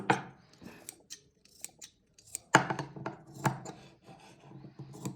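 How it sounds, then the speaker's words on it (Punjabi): Scissors snipping small notches into cloth for a kameez neckline, a run of short crisp cuts in an uneven rhythm, close and fairly quiet. "ਛੋਟੇ ਛੋਟੇ ਕੱਟ ਲਗਾ ਲੈਣੇ ਨੇ ਇਹ"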